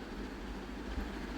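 A local train at a Chennai railway station rumbles steadily nearby, a continuous low roar with faint rhythmic clatter and no voices.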